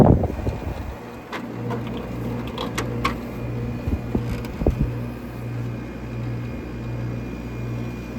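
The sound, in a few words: vintage air conditioner starting up, building pressure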